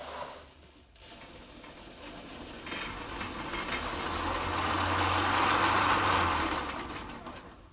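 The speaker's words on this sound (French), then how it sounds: "le moteur tourne doucement" Electric motor of a Motobécane 89 moped with a variator, running gently then climbing in revs, a steady whine and hiss swelling louder toward the middle before easing off, no talk.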